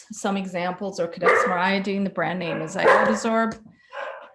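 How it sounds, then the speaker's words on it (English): A pet dog barks and yips in a home in the background, a few short, sharp bursts mixed under a person speaking steadily in the foreground during an online webinar. "I'm so sorry about the barking."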